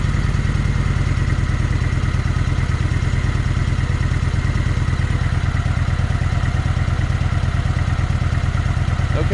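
A Kawasaki Vulcan 900 motorcycle engine, with its restrictor plates removed, idles close and loud in an even, rapid lumpy pulse that holds steady throughout, with no talking.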